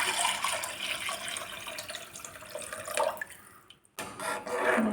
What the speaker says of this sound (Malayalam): ഇനി ഇതിലേക്ക് നമ്മൾ നേരത്തെ തയ്യാറാക്കി വെച്ച പുളിവെള്ളം ഒഴിച്ചു കൊടുക്കാം.